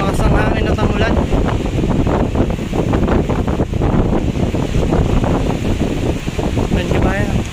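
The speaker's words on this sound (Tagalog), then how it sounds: "Dahil lumakas ang hangin at ang ulan." Strong wind roars and buffets the microphone in a dense, loud rush, with rain and water noise mixed in during a flood, and a voice speaks under the storm.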